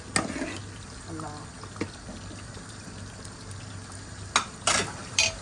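Green okra tossed and stirred in a hot pan with its sauce, a low steady sizzle punctuated by a few sharp scraping clatters from the spoon toward the end.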